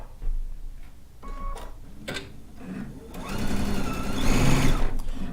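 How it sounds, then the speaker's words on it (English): A sewing machine winding bobbins, with a few clicks and brief mechanical ticks that build into a steady, fast whirring hum that grows louder toward the end. "I'll wind 3 or 4 bobbins before I sit down to sew."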